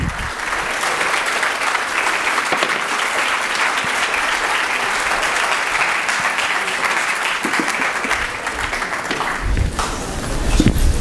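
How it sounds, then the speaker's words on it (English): Sustained, dense applause from an audience at a leadership speaker event, steady and loud for about nine seconds, with a few louder claps and shuffling toward the end. "Yes, give them a big round of applause."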